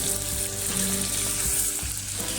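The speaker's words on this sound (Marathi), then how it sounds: "कोळंबी अशी थोडीशी फ्राय करून घ्यायची" Prawns fry in a hot pan, producing a close, steady crackling sizzle with a few soft stirring knocks, no voices.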